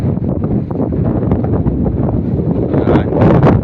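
Strong wind buffets the microphone at a campsite resort, a loud, continuous rumbling rush that swells toward the end.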